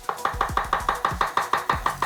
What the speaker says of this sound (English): Head back over to your chopping board and let's break down these mushrooms.